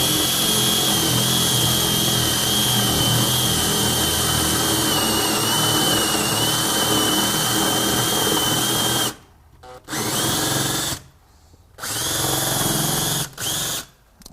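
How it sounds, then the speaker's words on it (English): A power drill bores a hinge hole into a kitchen cabinet door, whining steadily and loud for about nine seconds, then cutting out and restarting in several short bursts. "A very small rounding movement will make it cut a lot better than just trying to drill straight."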